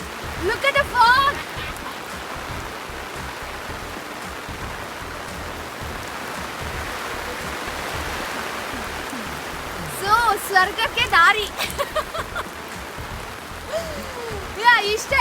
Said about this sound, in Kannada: ಫುಲ್ ಮಳೆ ಜೋರಾಯ್ತು.